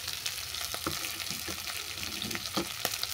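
Ghime greens and puti fish fry in a pan for a bitter Bengali village chachchari, a steady broadband sizzle with repeated scraping stirs of a spatula cutting through, close and continuous.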